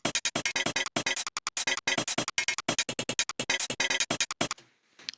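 Unprocessed samples recorded from knife-making, heard as a dense, rapid run of loud, sharp metallic hits and scrapes in quick irregular bursts, stopping abruptly near the end into near silence.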